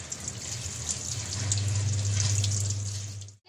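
Tap water runs steadily into a kitchen sink, a loud continuous rushing stream that holds for a few seconds before briefly cutting off.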